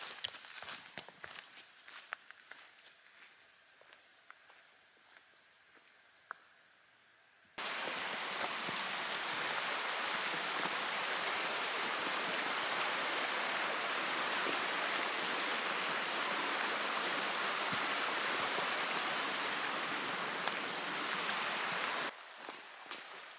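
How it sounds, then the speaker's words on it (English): A small creek flowing beside a hiking trail, first heard faintly behind footsteps, then rising to a loud, steady rushing wash up close for a long stretch before dropping back to quiet. "There's a nice little creek off to the side."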